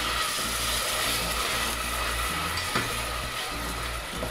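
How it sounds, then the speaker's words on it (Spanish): Chopped onion and garlic sizzle steadily in hot oil in a pan for a vegetable menestra, giving a continuous close frying hiss with a faint stir or clink midway, with no one talking. "le vamos a añadir la cebolla y los ajos que teníamos previamente picados. Los vamos a sofreír."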